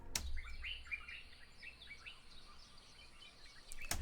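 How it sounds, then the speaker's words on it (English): A bird ambience sample preset used in a club R&B beat: birds chirp and tweet softly in a continuous outdoor ambience, with several overlapping quick calls and no voices. "I grabbed this little bird preset."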